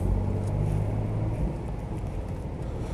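A Ford Capri 2.8 injection engine idles steadily after a cold start, a close, low rumbling tone with a slight dip in level partway through.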